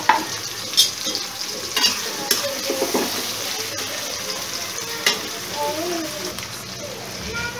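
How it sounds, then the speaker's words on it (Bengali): Onions fry in a pan with meat, giving a continuous crackling sizzle broken by several louder stirring scrapes and clatters; there is no clear talk. "আমি আমার মাংস বসিয়ে দেবো, এখন পরিমাণ মতো পেঁয়াজ দিচ্ছি, বেশি করে দিচ্ছি"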